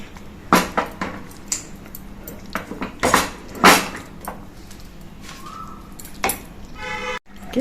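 A spoon scrapes and clanks against a pan while sweet-sour mango chutney with jaggery is stirred, with several loud metallic knocks and scrapes between quieter stretches.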